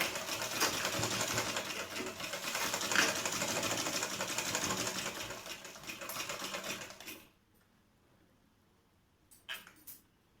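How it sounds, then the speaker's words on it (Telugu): A sewing machine stitches a kids' lehenga in a steady, close run for about seven seconds, then stops; a few faint brief taps follow in the quiet. "కొంచెం ఇలా పెట్టుకొని ఇట్లా హ్యాండ్ పెట్టుకోండి, స్టిచ్ వేసుకోండి."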